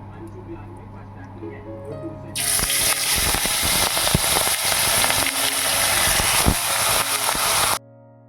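Hilsa fish pieces are dropped one by one into hot mustard oil in a kadai, setting off a loud, sustained sizzle and crackle with sharp spattering pops, beginning abruptly and stopping suddenly after about five seconds.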